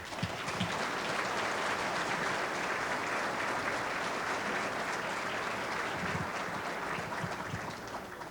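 Sustained applause from a dinner audience at a tribute to a Ford Motor Company dealer legend, a dense steady wash of clapping filling the room for several seconds with no speech.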